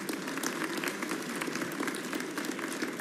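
Dense, continuous applause from the audience at the New Mexico governor's 2025 State of the State address, many hands clapping at once in a large hall, steady and loud with no talk.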